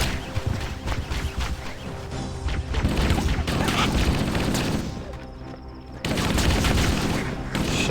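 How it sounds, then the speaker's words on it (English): Halo video game firefight with bullets ricocheting off a Jackal's energy shield: dense bursts of rapid gunfire and crashing impacts, loud and continuous with a brief lull near the middle before resuming. "I hate when the bullets reflect off the jackal shield into my face"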